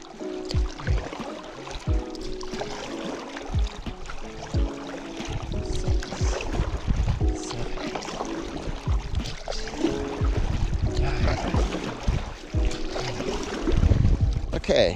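Paddle strokes pull through water beside an inflatable touring paddle board, the Nixy Manhattan G4 Plus, as a series of splashing, swishing pulls at a steady paddling pace, close and moderately loud.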